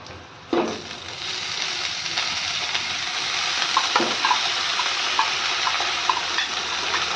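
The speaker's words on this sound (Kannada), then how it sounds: "ಇವಾಗ ಹಸಿಮೆಣಸು ಹಾಕ್ತಾ ಇದ್ದೀನಿ" Green chillies hiss and sizzle in hot oil in a pan after a sudden burst as they drop in, then a steady close frying crackle with light stirring scrapes throughout.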